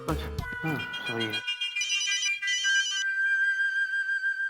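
A phone rings with a bright electronic ringtone that starts after a short burst of talk and keeps playing steadily, moderately loud, in an office scene.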